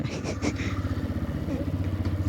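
A TVS Raider motorcycle engine runs steadily while being ridden, a close, even pulsing drone with a faint voice near the start.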